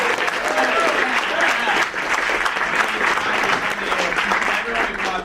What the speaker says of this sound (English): I need you to clap as loud as you can